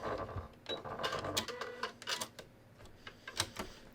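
An embroidery machine stitching along the edge of a zippered bag, its rapid mechanical needle chatter coming in uneven bursts with short pauses, close and fairly loud.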